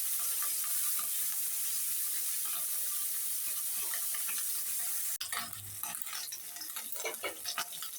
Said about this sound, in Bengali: আমি এতে পারতে ভালোভাবে মাছগুলো ভেজে নিতেছি